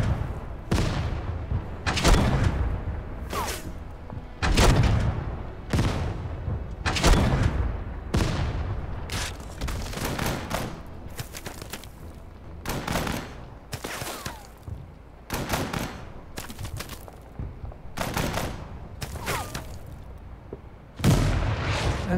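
Repeated artillery blasts in the WWII tank strategy game Total Tank Generals, Operation Uranus 1942, booming at irregular intervals over a constant rumbling battlefield din, some shots near and loud, others more muffled.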